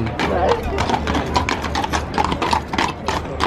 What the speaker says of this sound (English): Police on horse.